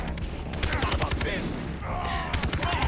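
Rapid gunfire from a Far Cry 3 firefight, repeated bursts of shots crackling loudly through the clip with little pause, while game ambience sits underneath.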